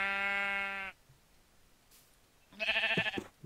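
Two sheep bleats from Minecraft, a long steady wavering baa, a short silence, then a second bleat, close and clear with no talk over them.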